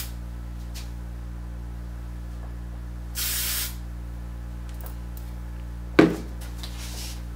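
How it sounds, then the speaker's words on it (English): Hairspray aerosol sprayed onto hair, a single short hiss of about half a second, then a sharp tap or knock later amid quiet room tone. "I'm just gonna spray the little baby hairs back."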